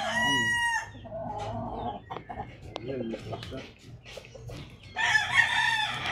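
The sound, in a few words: chickens, rooster crowing and clucking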